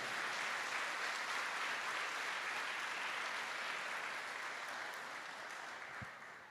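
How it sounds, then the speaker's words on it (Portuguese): A church congregation applauds steadily and loudly in a sustained wash of clapping that tapers slightly near the end, with no voices over it. "aplauda bem forte a palavra de Deus"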